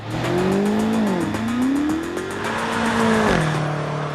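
A Range Rover Sport SV engine revs hard and loud, pitch rising and falling through gear changes, with a steady roar throughout.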